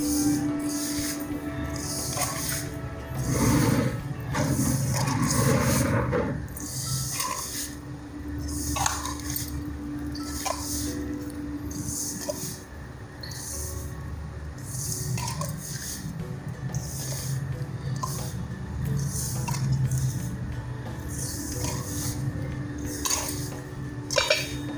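Grated coconut is stirred into rava laddu mixture in a metal vessel, with scraping and clinking of a spoon against the pan, loudest early on and then steady, with no one talking.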